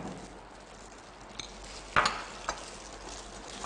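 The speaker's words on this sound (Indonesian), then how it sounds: "Kembali kita aduk rata." Spicy sauce being stirred with mayonnaise in a bowl, soft scraping and a few light utensil clicks against the dish, fairly quiet and close with no talking.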